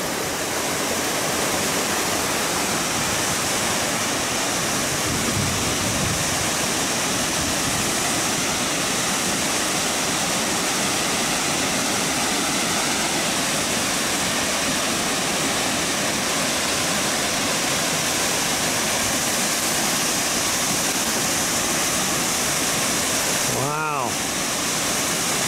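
A waterfall at Thousand Springs roars steadily close by, a dense broadband rush of falling water that holds constant throughout with no talking.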